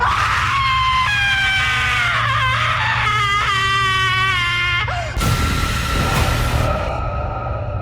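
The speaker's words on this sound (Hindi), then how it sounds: "एक बहुत भयानक चीख उन्हें उस गलियारे में साफ साफ सुनाई दी।" A long, wavering scream rings out as a horror-story sound effect in an old mansion corridor, loud and anguished, rising and bending in pitch for several seconds before cutting off into a harsh noisy burst with a low rumble underneath.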